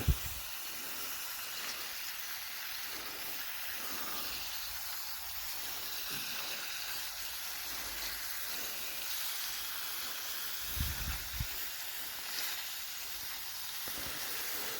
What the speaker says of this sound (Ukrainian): ось так все на ній чудово смажиться.